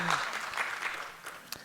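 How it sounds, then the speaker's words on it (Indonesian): Applause from a church congregation, a short burst of clapping at moderate volume that fades over under two seconds. "ya boleh tepuk tangan walaupun"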